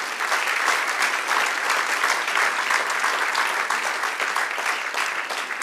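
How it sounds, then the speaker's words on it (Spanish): A church congregation applauds steadily, dense rapid clapping from many hands at an even loudness throughout. "Dale un aplauso al Señor, aleluya."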